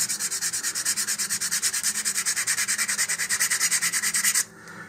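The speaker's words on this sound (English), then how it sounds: "I'm going to sand this with some fine sandpaper to begin with here, and especially around this seam here that's really, really prominent" Fine sandpaper rubs back and forth over the seam of a model rocket body in a fast, even rhythm of about thirty close, raspy strokes, stopping abruptly just before the end.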